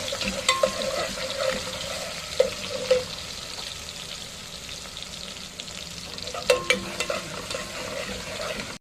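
Garlic fries in hot oil with a low steady sizzle, broken by several sharp clatters and utensil knocks as it is stirred, close and moderately loud, with no speech.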